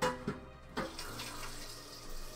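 Water running from a kitchen tap into a pot for boiling pasta, a steady close splashing flow with a few brief knocks at the start.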